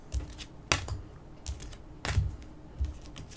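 Oracle and angel cards being shuffled by hand, with a few soft, crisp riffling bursts spaced irregularly, quiet and close, with no talk.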